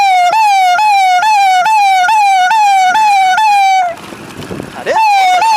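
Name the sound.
police or ambulance vehicle siren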